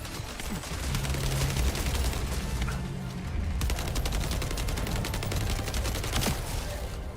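An assault turret fires rapid, sustained bursts of automatic gunfire in the shooter game The First Descendant, a loud continuous rattle over in-game music, briefly broken before resuming.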